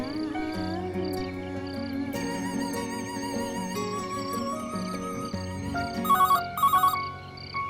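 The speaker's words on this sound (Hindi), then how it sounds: "इतनी रात को कौन फोन कर रहा है?" A telephone rings at night in a Hindi-dubbed Nepali action film, its electronic ringtone repeating steadily and loudly over a background music score, with no voices heard.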